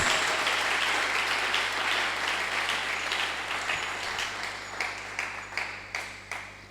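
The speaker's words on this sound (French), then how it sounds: "Si tu es dans la joie, tu peux acclamer pour la gloire de Sokoza na Jésus. esengo beta maboko pona lokumu na Yesu" A church congregation at a Sunday service claps for Jesus: dense, steady applause that gradually thins and fades, ending in a few scattered, distinct claps.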